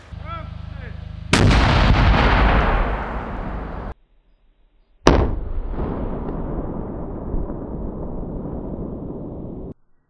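Two very loud explosive charges set off against a concrete wall, each a sharp blast with a long roaring decay, separated by a brief silent gap and heard close.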